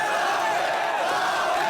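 Rap battle crowd roaring together in a dense, sustained wall of cheering and shouting, loud and unbroken for a couple of seconds.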